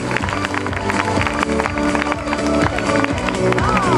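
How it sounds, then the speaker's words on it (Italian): Audience applause fills the hall at the finale and awards ceremony of the Miss La Riviera 2013 beauty pageant in Riva Ligure. It is a dense, continuous, loud wash of many hands under music and voices. "fatevi un applauso"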